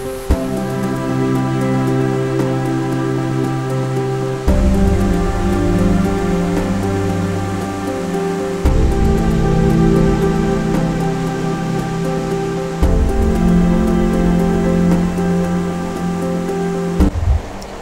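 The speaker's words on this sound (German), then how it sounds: "Jetzt regnet es gerade wieder." Steady rain falling, a loud, dense and continuous hiss close by with no voices, broken only by slight shifts in intensity every few seconds.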